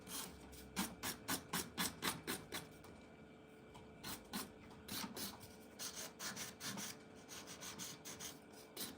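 A nail file rasps across acrylic nail tips in quick, rhythmic strokes, a series of short scratchy bursts with a brief pause midway, close and fairly quiet.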